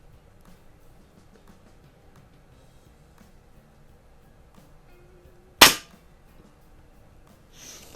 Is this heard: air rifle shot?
yes